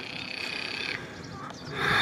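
Toads croak in a continuous, layered chorus at moderate distance, with the calls swelling louder toward the end.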